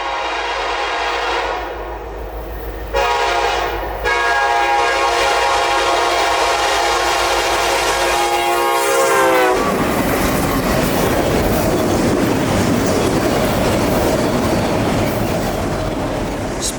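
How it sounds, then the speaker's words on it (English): A Norfolk Southern freight train led by a pair of SD70 locomotives sounds a long, loud multi-note horn in a quiet rural town, then rumbles past close by with steady rolling clatter. "a familiar pair of SD70s would break the mid-afternoon silence of this rural town"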